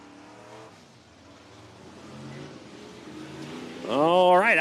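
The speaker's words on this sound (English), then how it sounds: "IMCA Northern Sport Mods back on the racetrack after doing some wheel packing for us earlier on" IMCA Northern Sport Mod race cars on a dirt racetrack at night, engines droning in the distance and then rising into a loud, close revving surge near the end, with a voice talking over the track noise.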